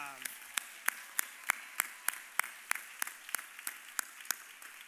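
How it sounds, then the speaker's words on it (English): At a senior awards night, an audience gives the graduating class a round of applause, heard as fairly sparse, regular claps that stand out crisply and keep a steady rhythm. "One more round of applause for the class of 2025."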